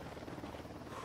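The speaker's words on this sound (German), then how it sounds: "Hubschrauber." Helicopter rotor in the tactical shooter game Ghost Recon Wildlands, a steady buzzing drone held at moderate distance throughout the brief moment, with no talk over it.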